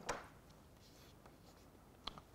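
Chalk or marker writing on a lecture board, a few faint scratchy strokes at the start and near the end with quiet room tone between.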